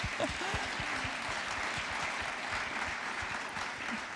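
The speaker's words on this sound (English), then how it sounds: "can we have a round of applause?" Sustained applause from an audience at an awards event honouring global good work, a dense even wash of clapping lasting throughout, with some low voices mixed in beneath it.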